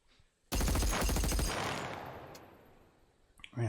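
Burst of rapid gunfire erupts suddenly in a tense scene from The Walking Dead, a dense volley of shots rattling loudly for about a second before trailing into a long echoing decay.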